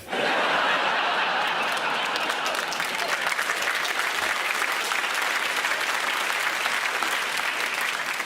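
Sustained applause from a comedy show audience, loud and steady throughout, with some light laughter mixed in.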